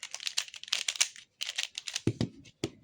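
Plastic pieces of a Pyraminx puzzle click and rattle in quick, quiet bursts of twisting as it is scrambled, with a short pause midway and no talking.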